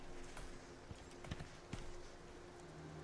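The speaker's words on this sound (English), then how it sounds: "I did hear a horse as well, though." Horse hooves clip-clop faintly in the survival video game Icarus, with a few soft, spaced hoofbeats under a steady low ambient hum, sounding distant.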